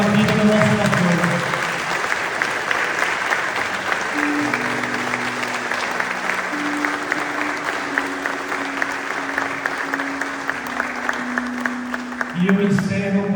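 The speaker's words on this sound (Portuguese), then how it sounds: "E eu gostaria que a igreja aplaudisse o Senhor, levantasse a pé, aplaudindo o Senhor pela vida do nosso pastor." A church congregation applauds while standing at a pastor's birthday celebration, a dense steady clapping that rolls on for about ten seconds, with a voice and organ-like tones over it at the start and end.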